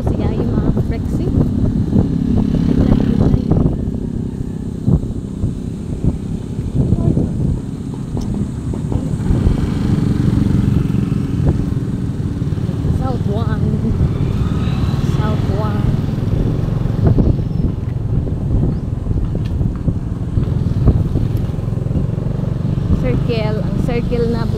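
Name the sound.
motorcycle revving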